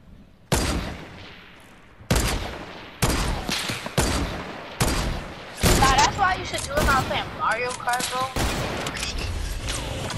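Rapid bursts of sniper rifle and other gunfire in a shooter video game, loud, close and repeated, with sharp cracks and dense volleys under excited voices talking.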